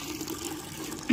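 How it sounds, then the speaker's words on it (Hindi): A tap runs water to fill a container for watering plants, giving a soft, brief splashing flow that briefly grows louder near the end, with no speech. "टूंटी चला दो इसमें पानी भर जाएगा"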